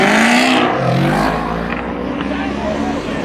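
A car revs hard for a burnout at a car meet, its engine roaring loud and steady throughout, with an excited crowd shouting over it.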